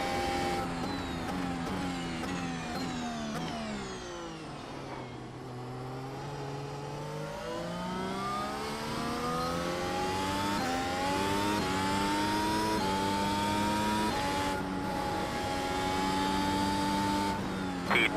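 NASCAR race cars racing at Indianapolis, their engines a loud, sustained whine that rises and falls in pitch as several cars sweep past, with no talking.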